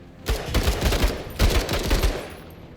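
Bursts of rapid gunfire in the video game MENACE: two close, loud volleys of quick shots with a short pause between them, crackling strongly and fading at the end.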